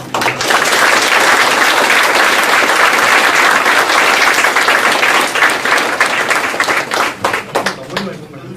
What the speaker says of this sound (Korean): 다시 한번 이병 원장님께 큰 박수 부탁드리겠습니다.